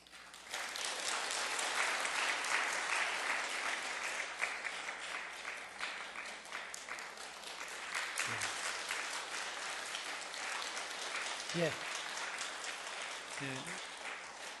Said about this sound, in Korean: 박수로 격려하시겠습니다.